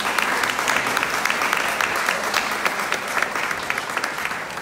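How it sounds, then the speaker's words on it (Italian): Steady applause fills an art exhibition opening as an audience claps for doctors, a dense, continuous wash of hands at moderate loudness lasting throughout with no talk over it. "Quindi un applauso."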